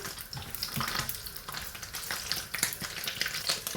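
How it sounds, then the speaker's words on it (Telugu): Ginger garlic paste dropped into hot oil for chicken pickle, a dense, crackling sizzle that stays steady with small bursts, close to the pan and without any talking. "అల్లము వెల్లిపాయ పేస్ట్ వేస్తున్నాను"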